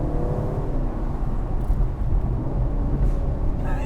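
Exhaust of an Aston Martin Vantage, Ferrari Roma or McLaren Artura soft-top supercar in Sport mode with the exhaust turned up, a loud continuous engine roar with low rumble and faint crackles near the end.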